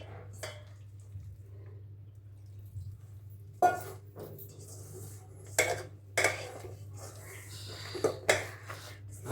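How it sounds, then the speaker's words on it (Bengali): Gram flour batter being mixed with water in a bowl, with soft wet squishing and stirring under several sharp clinks of a utensil against the bowl, close by and fairly quiet. "বেসনটাকে একটু মেখে রেখে দেবো খাবার সময় ভাজবো অল্প করে জল দিয়ে দিয়ে মেখে নিচ্ছি"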